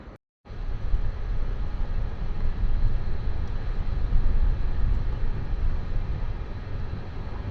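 The Guwahati Intercity train pulling into Kamakhyaguri station: a loud, continuous low rumble of rolling wheels and carriage noise that starts abruptly after a brief silence and holds steady throughout, with no talking.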